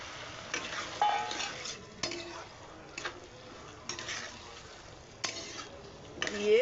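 Boiled peas and potato being stirred in a hot pan for vegetarian ghugni, with soft sizzling and regular scraping strokes of a spoon at close range, about once a second.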